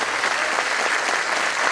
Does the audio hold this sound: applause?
yes